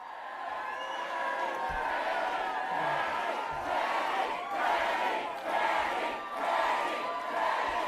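An election night crowd waiting for Penny Wong cheers and murmurs in a steady, dense roar that holds at an even level throughout, with shouts and whoops rising out of it now and then.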